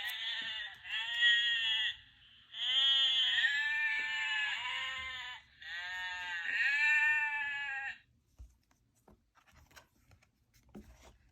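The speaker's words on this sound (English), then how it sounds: "How many sheep can you hear?" Sheep bleat in three long, loud, wavering calls close by, each lasting a second or more with short gaps between, followed by quiet with faint scattered rustles.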